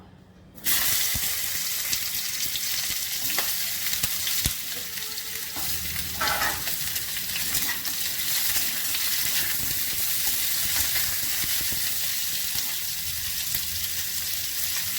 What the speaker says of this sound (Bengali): এবার আমি কাঁকরোলগুলো একটু ভেজে নেব